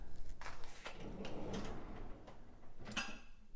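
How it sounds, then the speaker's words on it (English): Kitchen cabinet drawer on IKEA Maximera runners sliding open, a soft, quiet rolling glide with light knocks and a sharper clack near the end, heard alone without talk. "we're gonna release that cabinet drawer"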